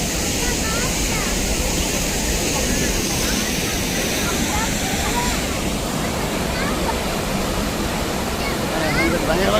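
Athirappilly waterfall, known as India's Niagara, pours as a steady, loud, broadband roar that fills the whole stretch without pause, with a crowd of people faintly audible behind it.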